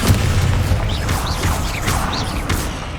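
A Descendo spell is cast in Hogwarts Legacy with a deep, booming magical burst and a rumbling crash, followed by whooshing, shimmering effects and scattered pops from the game's combat.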